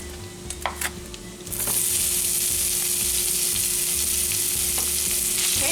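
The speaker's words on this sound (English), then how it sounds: "we're just gonna go ahead and put the onions in here with the bacon." Onions hit hot bacon drippings in a pan and burst into a loud, steady sizzle that holds without a break, after a few quieter clinks and scrapes at the start.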